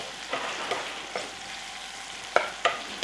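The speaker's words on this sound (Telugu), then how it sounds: "కొంచెం జస్ట్ ఒక ఫ్రై లాగా డిచ్కా ఒక కోటింగ్ ఇస్తే చాలు" Dry prawns frying in a pan for a dry prawn curry, with soft sizzling and scattered clicks and scrapes of stirring, a few sharper taps near the end, close and fairly quiet with no talk.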